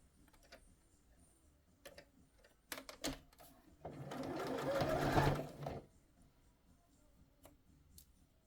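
A sewing machine stitches an upcycled boho bag, running in one steady burst of about two seconds after a few light clicks and taps, close and fairly loud, then stopping.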